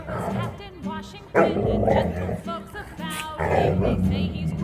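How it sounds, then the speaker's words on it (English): A farm dog gives a run of yipping barks and whimpers, several loud close calls in uneven bursts over a constant low background. "Dog."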